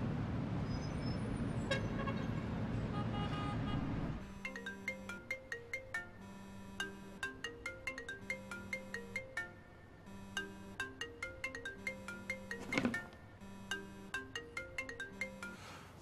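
A phone ringtone rings unanswered, a repeating electronic melody over steady road traffic noise with a car horn toot partway through.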